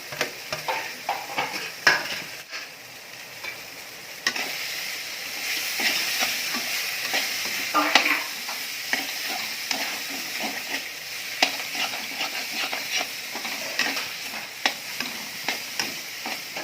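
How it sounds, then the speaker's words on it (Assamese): Boiled potatoes frying in a pan with nalteng, turmeric and salt, a constant sizzle broken by repeated scraping clacks of a spatula stirring, close and fairly loud with no voices. "এতিয়া ইয়াত বইল কৰা আলুখিনি দি দিলোঁ নলটেঙা। অলপ সময় ইয়াত ভাজি ল'ম।"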